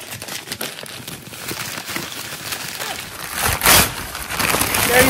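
Packaging being unwrapped from a large crystal, soft crinkling and rustling that builds into a louder tearing crackle near the end, close by with faint background voices.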